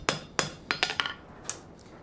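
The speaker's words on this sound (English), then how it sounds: "We're going to pick up our hand hammer again." A hand hammer straightens a forged metal rosette bloom with about seven sharp, ringing taps at an uneven pace, close and clear with no talking.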